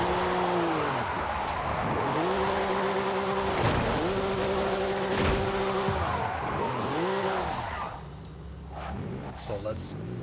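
An engine in the video game Forza Horizon 5 revs steadily through repeated gear-shift-like climbs and drops, with tire squeal and skidding over a loud continuous drive, fading quieter near the end.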